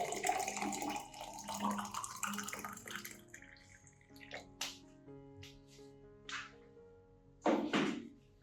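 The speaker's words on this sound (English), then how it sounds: "Add 500 milliliters warm water" 500 milliliters of warm water pours and splashes in a short rush, then a few drips and light knocks follow, ending with a louder burst of pouring.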